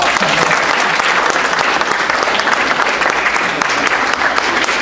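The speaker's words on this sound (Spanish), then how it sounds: "Un aplauso, hermano." A church congregation breaks into loud, dense applause that carries on steadily throughout, close and full, with many hands clapping at once.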